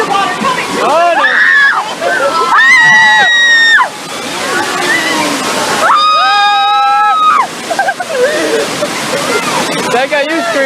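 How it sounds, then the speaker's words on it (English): A rushing torrent of water gushes through the Universal Studios earthquake ride, loud and continuous, with screams and shouts from riders rising over the roar in two strong bursts. "if you don't count the rushing, gushing torrent of water coming through."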